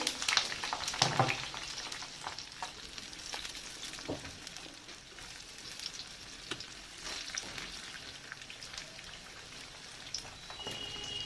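Helencha greens fritters frying in hot oil in a village kitchen give a steady, close crackling sizzle with scattered pops and spatters, continuous throughout and with no voices.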